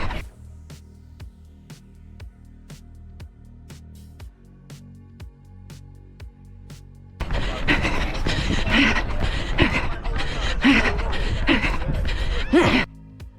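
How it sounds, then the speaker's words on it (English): Heavy, rhythmic breathing of a 61-year-old runner racing a 5K in Puma Fast R Nitro Elite shoes, close and steady under loud outdoor noise, preceded by quieter regular footfalls. "I'm working hard, you can hear it, but the breathing is still under control"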